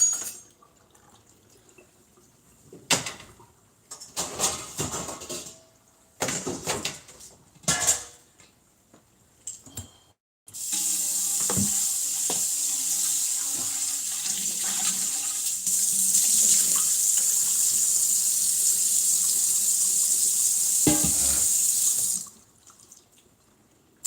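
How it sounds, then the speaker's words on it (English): Household kitchen sink: a few short clatters of a pot being handled, then a long steady rush of running tap water as the pot is rinsed, close and loud, stopping abruptly near the end. "So let me rinse this pot out."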